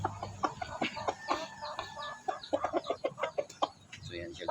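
Chickens clucking in short, repeated bursts close by, with a busy farmyard background.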